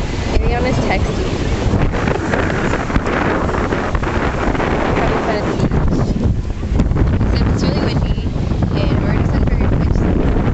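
Strong, steady, cold wind at Huntington Beach roars and buffets the microphone throughout, with a broad rushing noise and faint sea surf underneath; no one speaks.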